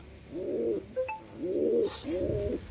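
Pigeons in poor condition coo nearby, three soft rolling calls spaced about half a second apart, with faint clicks between them and no talk.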